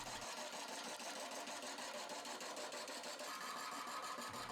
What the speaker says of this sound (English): I'm not turning this piece very fast, running the lathe above 400 RPM.